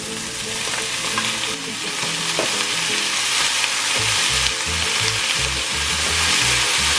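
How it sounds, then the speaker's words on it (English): Steady loud sizzling of vegetables being stir-fried in a hot pan, with low clattering and scraping from stirring throughout. "after a good 2 minutes of stir frying those ingredients"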